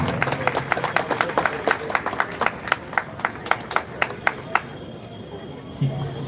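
Applause at a church prayer service during a peace rally: sharp, rhythmic claps ring out near and loud, slowing and thinning before stopping, after which a voice begins to speak.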